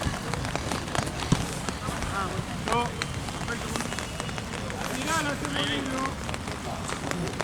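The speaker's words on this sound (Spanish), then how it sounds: "Está lloviendo fuerte." Heavy rain drums steadily on a surface at a league football match, a dense constant roar with voices talking faintly underneath.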